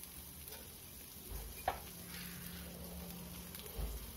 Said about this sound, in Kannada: ಅದನ್ನು ಕೂಡ 1-2 ನಿಮಿಷ ಬಾಡಿಸ್ಕೊಂತೀನಿ